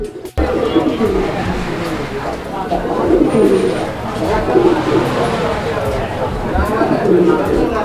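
A male pigeon coos repeatedly at close range, low rolling calls rising and falling in a steady rhythm, with people talking and background chatter throughout.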